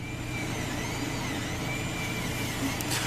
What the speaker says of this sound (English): So this printer is printing me a whole swarm of scarabs.